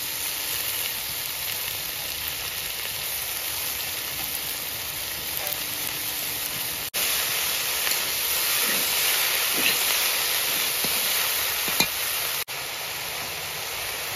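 Spinach going into a pan of frying vegetables produces a continuous hiss and sizzle at moderate loudness, and the level steps up partway through.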